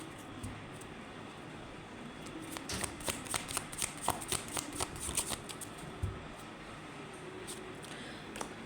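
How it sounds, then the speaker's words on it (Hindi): Tarot cards being shuffled by hand, a quiet run of crisp, rapid riffling clicks that builds in the middle and then fades, with no voices. "थोड़ा सा और शफल करूं।"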